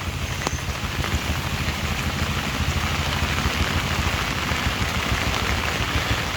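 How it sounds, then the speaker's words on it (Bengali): Steady monsoon rain patters down on open farm fields, a constant dense hiss with no voices. "আল্লাহ রহমতে একটু বৃষ্টি হয়েছে এখন জমিতে"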